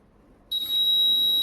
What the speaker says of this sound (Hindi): ये बजर बजा